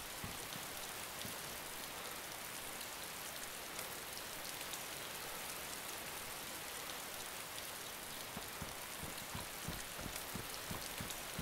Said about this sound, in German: Ja, bei dem Regen.